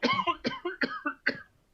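A person coughs in a quick run of four or five short, voiced bursts, close and loud, then the sound trails off.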